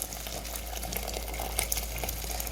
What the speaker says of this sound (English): Just pour enough water.